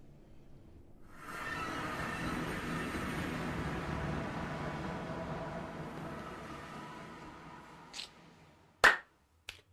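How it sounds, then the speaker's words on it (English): A single sharp, loud hand clap cracks out close by near the end, following a long, soft hiss and a couple of smaller taps. "That was a really loud clap."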